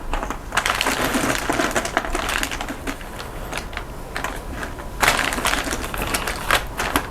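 Cardboard jigsaw puzzle pieces are stirred and handled nearby, making a loud, continuous clatter of small pieces rubbing and knocking together, with a busier burst toward the end.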